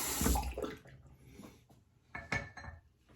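A razor being rinsed under cold running water: short splashes and tapping knocks against a sink, a few bursts spaced irregularly with quiet gaps between.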